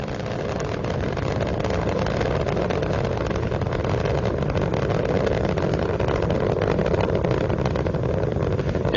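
Space Shuttle Endeavour's three liquid-fuel main engines roar during a 2001 launch, a dense, unbroken rumbling wall of noise that holds steady at high level for the full stretch.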